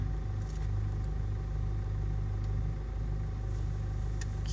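A car creeps slowly along during a driving lesson, its engine giving a low, steady hum with faint road rumble and no spoken words over it.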